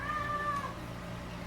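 A pet cat gives one short meow, close and fairly faint, with a quiet room afterward.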